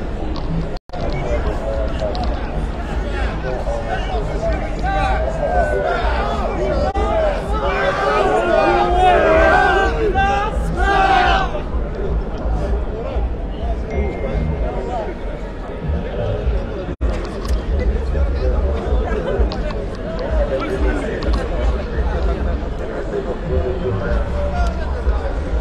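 Moroccan football fans outside the stadium before the Morocco vs Belgium match, a dense crowd of chanting, shouting voices, louder and more excited early on, then settling into a steady hubbub of chatter.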